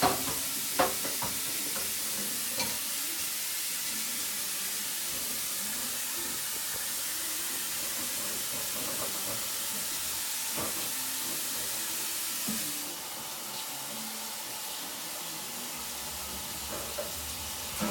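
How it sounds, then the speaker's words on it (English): Sausage browning in a pan, a steady quiet sizzle and hiss running throughout with occasional stirring clicks, close and unbroken, with no talking. "the sausage is just browning on one side"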